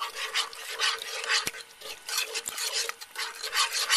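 A spoon stirs a sour gummy mixture in a bowl, scraping and rubbing in repeated close strokes with a few sharp taps against the side.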